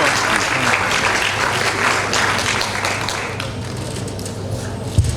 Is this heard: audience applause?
yes